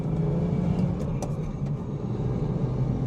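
Manual BMW M240i pulling through a shift into third gear, a steady engine drone and road rumble with a brief higher mechanical whine partway through, close and continuous.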